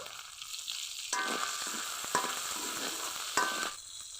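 Chili peppers and dried fish hitting hot oil, a bright crackling sizzle with a few sharper pops and stirring scrapes, close and moderately quiet, running throughout.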